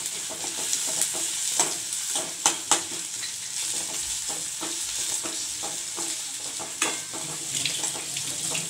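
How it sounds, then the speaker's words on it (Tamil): Onions sauté in a pan with green chilli and curry leaves for a yogurt potato gravy: a constant sizzle broken by frequent sharp clicks and scrapes of a spoon stirring against the metal. "வெங்காயம் கொஞ்சம் கண்ணாடி பதம் வதங்கணும்."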